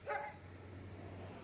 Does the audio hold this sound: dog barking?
yes